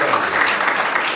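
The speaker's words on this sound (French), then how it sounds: "on va les applaudir" A church congregation at a worship service claps together in a short, dense burst, loud and close, with no voice over it.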